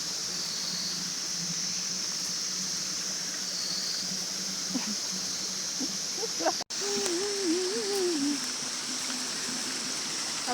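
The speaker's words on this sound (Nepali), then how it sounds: "पानी यहाँ भरिरहेको छु" Water running into a container, a steady rushing pour heard continuously and fairly close, with a short break partway through and a person's voice briefly heard over it.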